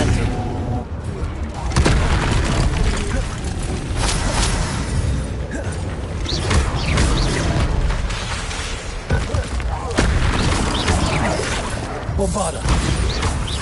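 Bombarda blasting spell going off in Hogwarts Legacy, loud booming bursts and crashing impacts piled into a dense, continuous din of game combat noise.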